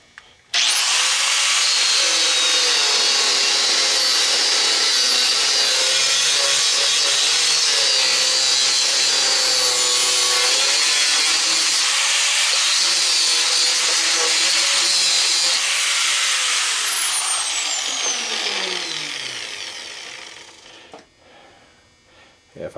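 A cutting disc tool grinds steadily into a scrap push mower, a loud continuous high whine held for about twenty seconds before spinning down and trailing off.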